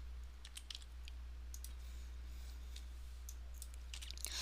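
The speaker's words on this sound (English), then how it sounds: "So I'm just typing any question." Light, quick keystrokes on a computer keyboard as a question is typed into an online quiz form: faint, irregular clicking over a steady low hum, with no voices.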